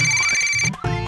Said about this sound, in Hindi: ये मेरी रिंग है।